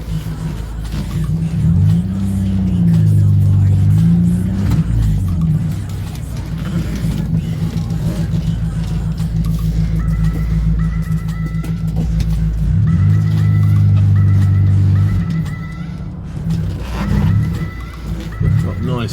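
A 2005 BMW Z4 with a straight-through exhaust, likely missing its back box, idles and rises and falls in revs nearby, a deep steady drone under continuous talking.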